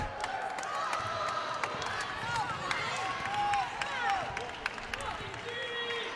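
Crowd noise fills a Bowling Green women's college basketball arena during a home game against Canisius, a sustained roar and cheering mixed with squeaking sneakers on the hardwood court, with a voice speaking over it.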